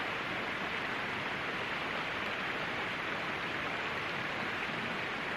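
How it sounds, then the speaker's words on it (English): Rain comes down in the Australian bush, a soft continuous patter and hiss that stays level throughout, with nobody speaking. "Oh, go away, rain."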